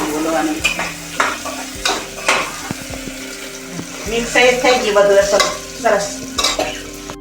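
Pigeon pea and potato curry with garlic masala sizzles in a pan as a spoon stirs it in repeated scraping strokes, close and fairly loud, with brief speech between the bursts.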